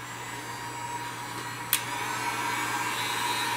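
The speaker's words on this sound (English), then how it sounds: "Heat gun." A heat gun blows hot air in a steady, unbroken rush at moderate level, with one brief sharp click partway through.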